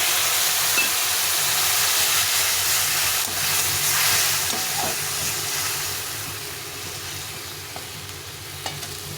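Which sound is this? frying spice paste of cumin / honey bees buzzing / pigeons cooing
frying spice paste of cumin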